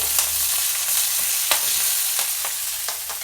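A teaspoon of cumin and two finely chopped green chillies frying in oil for bun dosa, an even close sizzle punctuated by crisp spoon scrapes and taps every half second or so, fairly loud with no talking.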